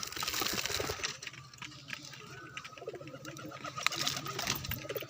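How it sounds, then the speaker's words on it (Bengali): A single pigeon coos faintly, low burbling calls against a watery background hiss, with no voices. "দেখো এখানে একটা পায়রা চলে আসলো"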